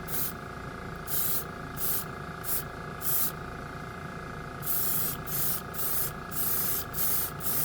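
A budget airbrush sprays primer onto a wood handle in short hissing bursts, about a dozen on-and-off pulses close by over a faint steady hum.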